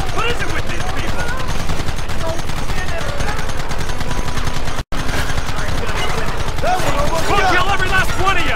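Gunfire from the Red Dead Redemption western video game comes in dense, rapid volleys of rifle and pistol shots that crack almost without pause. The shooting stays loud and continuous, with shouting voices mixed in and one brief dropout midway.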